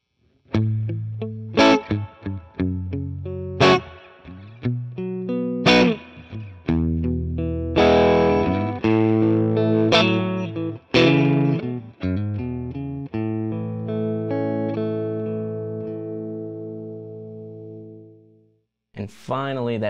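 Crunchy, overdriven electric guitar through a Two Rock Studio Signature amp on its Schofield setting, played alone as chords and single-note lines with a sustained ringing tail that fades near the end before a final stab.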